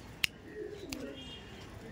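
Madrasi pigeons coo nearby, soft rolling throaty calls that swell and fade, broken by a few sharp clicks and taps.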